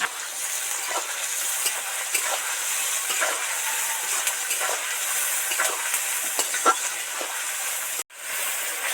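Chicken curry ingredients are stir-fried in a pan with a little salt, giving a steady, close sizzling hiss with scattered small crackles. The sizzle cuts off briefly near the end.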